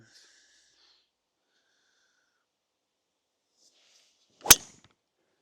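A single sharp impact of a golf club striking a ball on a driving range, one loud crisp crack standing alone after a quiet stretch, followed by a short fading tail.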